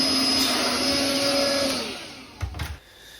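Vacuum cleaner sucking loose dirt out of an oven during deep cleaning, a steady loud whine for about two seconds that then fades, followed by brief scraping knocks.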